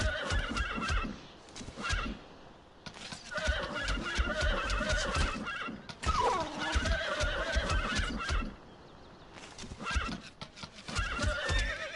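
A horse in the video game Bard's Tale neighs and whinnies repeatedly over about twelve seconds, loud and close, with bursts of clip-clop hoof sounds and game ambience between the calls.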